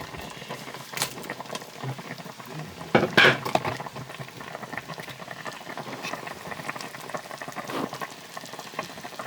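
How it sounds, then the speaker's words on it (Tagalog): Bulalo (beef bone marrow soup) broth bubbles steadily at a low simmer in a pot, with soft clinks of a utensil against the pot and one brief scrape near the middle. "Habang kumukulo siya"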